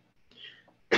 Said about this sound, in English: Oh, she's coughing in the background.